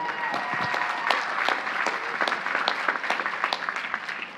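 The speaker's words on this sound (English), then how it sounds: "So let's give him a round of applause." Sustained audience applause fills a college commencement ceremony at Queens College in 2018, a dense, steady clapping from a large crowd with scattered individual claps standing out.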